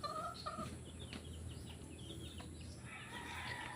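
Brood stag chickens cluck and call from a backyard farm, short fowl vocalizations repeating at moderate distance over steady outdoor ambience.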